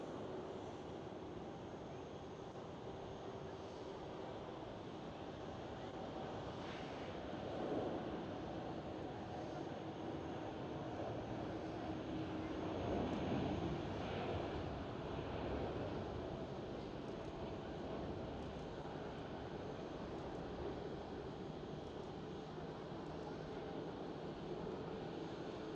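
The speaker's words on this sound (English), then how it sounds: "right now KLM 787 taking off" KLM Boeing 787 taking off at Amsterdam Schiphol airport, a steady distant jet roar that swells slightly midway, heard from afar and continuous for the whole stretch.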